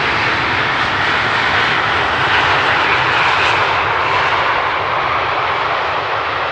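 An Embraer E2 airliner lands and rolls out on runway 18R at Amsterdam Schiphol without thrust reversers, a loud steady engine roar that slowly fades with no talking.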